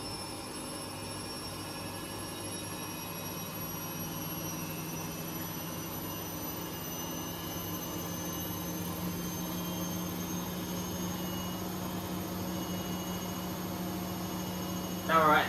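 Washing machines running a spin-only cycle, a steady low hum and whirring drone that holds constant throughout, with a brief higher sound right at the end.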